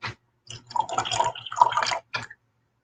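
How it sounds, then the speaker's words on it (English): Coffee poured from a decanter into a cup, a close liquid stream with gurgles and drips running about two seconds, then a short final splash. "you pour a little bit more coffee out of your little decanter"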